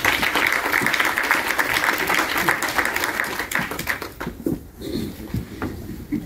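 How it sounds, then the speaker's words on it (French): An audience at a university signing event with the CAF bursts into sustained applause, dense clapping that fills the room, then thins into scattered claps as it fades toward the end. "Vous pouvez vous applaudir."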